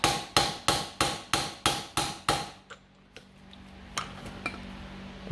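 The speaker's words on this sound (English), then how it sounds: "we are going to take our old bushing and set it on top there and use that as a driver." Old bushing used as a driver is struck with a hammer onto a John Deere A tractor clutch part: eight evenly spaced, sharp metallic blows with ringing decay, then a few lighter scattered taps and clicks.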